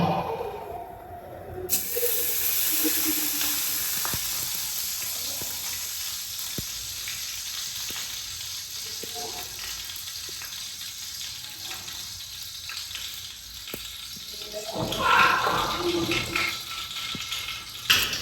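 Ghee heating in a hot pan while making a banana dish gives a steady, close sizzling hiss that starts after a brief quiet moment and swells louder near the end, with no talking.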